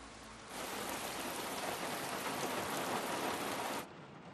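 Rain falls in a steady, even hiss that begins suddenly after half a second, holds at a constant level for about three seconds, then stops abruptly. It is fairly soft, and no voices are heard.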